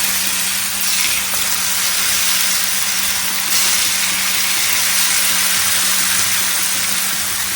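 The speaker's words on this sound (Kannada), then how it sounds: "ಎಣ್ಣೆ ಕೂಡ ಬಿಸಿ ಆಗಿ ಇಟ್ಟಿದ್ದೇನೆ ಈಗ ಇದಕ್ಕೆ ಫ್ರೈ ಆಗಲಿಕ್ಕೆ ಹಾಕಿ" Cauliflower gobi coated in rice flour batter deep frying in hot oil, a loud, steady, broadband hiss and bubble that runs unbroken throughout.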